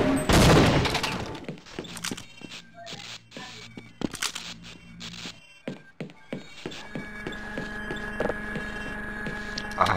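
Shotgun fire in the video game Half-Life: a rapid run of loud, booming blasts that fade into a steady electronic hum and scattered smaller impacts.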